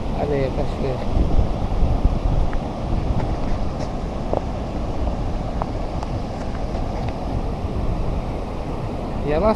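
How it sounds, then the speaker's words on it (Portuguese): Rushing water of the Cachoeira do Curuá waterfall in Novo Progresso, a steady broadband roar blended with wind buffeting the microphone, continuous and fairly loud. "Olha aí a cachoeira."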